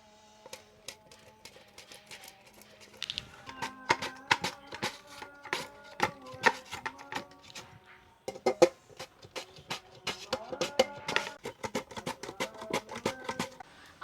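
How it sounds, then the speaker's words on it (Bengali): Raw green mangoes grated by hand on a metal grater for a spicy pickle, giving rapid rhythmic scraping strokes in close, crisp bursts that pause briefly midway before continuing steadily, with no talking. "এই গ্রেটার দিয়ে আমগুলোকে গ্রেট করে নেব।"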